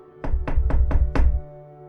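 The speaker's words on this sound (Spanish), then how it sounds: "De pronto tocaron a mi puerta." Five firm, evenly spaced knocks strike a wooden door, close and resonant, then silence.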